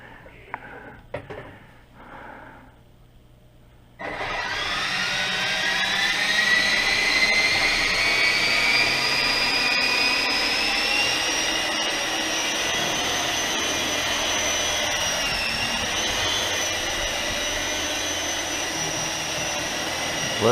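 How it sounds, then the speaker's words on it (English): A UDI U12A RC helicopter flies indoors in a house, its small motor and rotors spinning up abruptly into a loud, steady high whine that holds with slight pitch wavers. "It's a big helicopter to fly inside the house."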